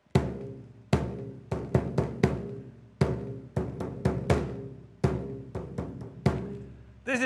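A two-headed drum made from a hollow mahogany trunk with canvas covering both heads, struck in a steady rhythmic pattern of loud, close, resonant booming hits with no talking.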